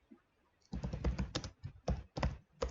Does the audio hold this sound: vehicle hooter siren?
no